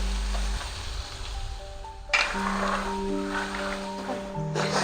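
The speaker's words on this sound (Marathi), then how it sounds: "कांदा, शिमला मिर्च आणि टोमॅटो तिन्ही परतून झाले।" Onion, capsicum and tomato sizzle in a pan, a steady, close frying hiss with a brief louder swell midway and a faint low hum underneath.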